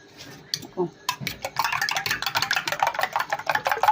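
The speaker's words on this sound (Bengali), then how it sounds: "এই ডিমটা আমি এবার ভালো করে ফেটে নেব" Eggs whisked by hand in a bowl for caramel pudding, a few scattered clinks and then a fast, steady run of scraping strokes against the bowl, close and fairly loud.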